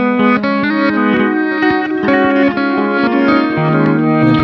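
A distorted electric guitar plays chords and picked notes through particle and warped-vinyl effects, a shimmering, warbling sound with grainy, wobbling pitch, loud and continuous without any speech.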